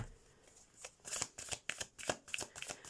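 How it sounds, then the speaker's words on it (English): Tarot cards being shuffled by hand, a run of crisp riffling flicks and soft slaps in an uneven rhythm, close and fairly quiet with no talking. "I'm shuffling these cards for you."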